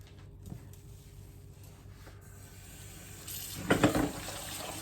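Tap water runs into a kitchen sink as dishes are rinsed, a low steady flow that swells into a louder splashing gush near the end, with faint clatter and no talking.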